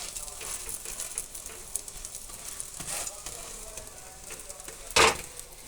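Oil heats in a pan for fish curry, a quiet, steady sizzle with soft crackles throughout and one sharp clatter near the end.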